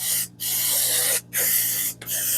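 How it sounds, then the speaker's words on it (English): Three long, steady hissing bursts from an aerosol can of spray adhesive onto batting, separated by brief pauses, close and loud. "I'm going to go spray my batting"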